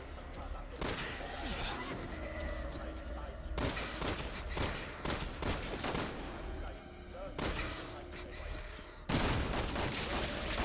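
Gunfire in the video game Resident Evil 6, repeated bursts of shots layered over game music and noise, with a horse whinnying and voices speaking in the mix.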